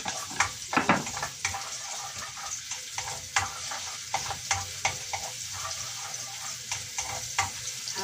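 Garlic frying in hot cooking oil for an ampalaya and egg lunch, a steady sizzle with repeated stirring scrapes and clinks of a utensil against the pan, close and alone.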